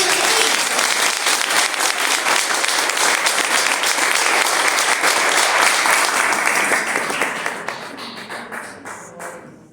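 A dense, sustained round of applause from a church congregation, loud and steady, thinning out and fading toward the end.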